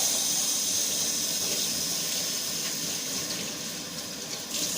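Tap water runs steadily, rinsing Ayurvedic herbal powder off a surface in a sink, a continuous close hiss of flowing water with no speech.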